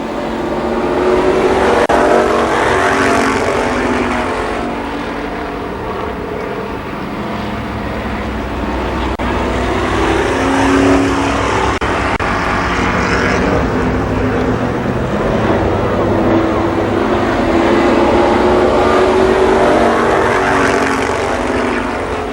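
Stock cars race at Columbus Motor Speedway, a loud, continuous roar of engines that swells and eases as the pack circles, with no voices over it.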